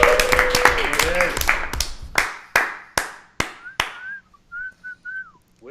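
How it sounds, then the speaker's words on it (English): A crowd claps and cheers loudly, the applause fading to a few sharp claps before a clear whistle sounds several times, rising and falling. "Whistling and everything."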